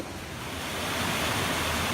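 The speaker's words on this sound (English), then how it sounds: "This is Bear Hole Brook." Mountain brook water rushes steadily along a wooded hiking trail, a dense close broadband flow with no other sounds, swelling slightly louder partway through.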